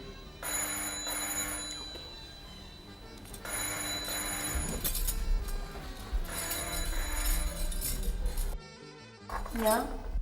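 An old telephone bell rings in repeated bursts, loud and close, with short pauses between rings, over faint clinking of dishes and cutlery.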